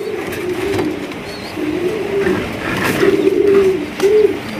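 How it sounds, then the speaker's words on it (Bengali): A pair of Jhorna satin pigeons cooing nearby, repeated low rolling coos in short bursts, loud and close with no talking. "এখানে রয়েছে এক জোড়া ঝর্ণা শাটিন কবুতর"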